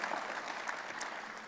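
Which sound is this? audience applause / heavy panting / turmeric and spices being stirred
audience applause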